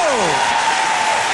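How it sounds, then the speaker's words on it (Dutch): Ice-rink audience at a live skating dance show applauds for Slavomir and Sita, full sustained clapping with a gliding tone fading in at the start. "Nou, eens een applaus voor Slavomir en Sita!"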